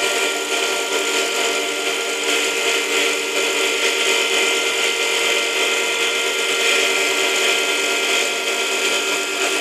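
A sharp cutting tool shapes a wooden tool handle, probably on a lathe, with a steady, loud, dense whirring hiss that holds unbroken from start to finish and carries no talk.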